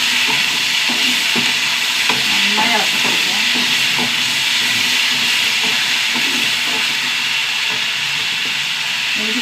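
Onions and potatoes are stirred in a frying pan, with a steady hiss of frying broken by scattered scraping and clinking stir strokes.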